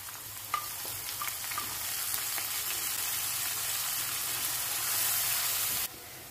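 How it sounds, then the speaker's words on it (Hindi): Chopped medium-sized onion fries steadily in a pan for Arabic-style rice, a continuous broadband sizzle with a few sharp crackles and pops early on, close and fairly loud, easing slightly at the very end; no one speaks. "देखिए प्याज हमारा फ्राई हो रहा है, अच्छा सा गोल्डन हो जाएगा।"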